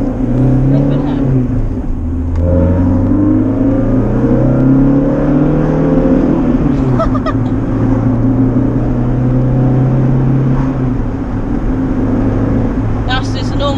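A modified, cammed Renault Clio 182 making about 194 bhp, its engine droning loud and close from inside the cabin, pitch rising and falling as it pulls through the gears, with a voice speaking over part of it.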